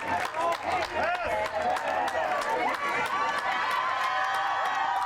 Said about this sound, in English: And the crowd responds to Mateo Morris